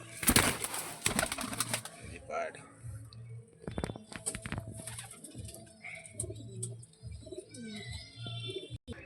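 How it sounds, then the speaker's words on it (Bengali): Pigeons coo softly in a low repeating pulse, among them a big black-green female pigeon, with flutters and chirps around them while someone talks close by over the birds. "এই যে বিগ সাইজের একটি কালা সবুজ মাদা পায়রা"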